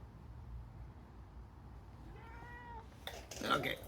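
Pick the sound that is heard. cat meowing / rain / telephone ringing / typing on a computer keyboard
cat meowing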